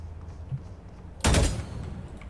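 Gunfire in the video game Valorant: one sharp, loud shot bursts out about a second in and fades over a short tail, with quiet background before and after and no talking.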